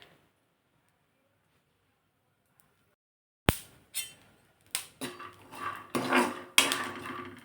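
Sprouted moth beans are dry roasted in a pan without oil. After a long silence, a spatula clatters and scrapes against the metal in a series of sharp, close knocks and rattles.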